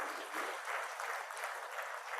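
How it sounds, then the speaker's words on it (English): An audience at a conference applauds a speaker with a steady, fairly quiet wash of clapping that holds evenly from start to finish. "A round of applause for him, please."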